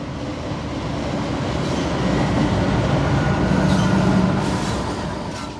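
A freight train rolls past on the former Seaboard S-line at the Vitis siding, a loud, steady rumble of cars with rhythmic wheel clatter and a faint drawn-out squeal, swelling and easing slightly.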